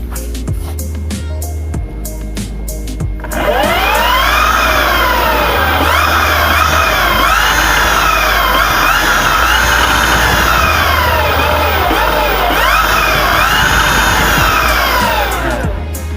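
A loud, sustained synthetic whine from an Alva Cervo electric motorcycle in eco mode swells in and holds, its tone rising and falling in smooth sweeps over a low hum.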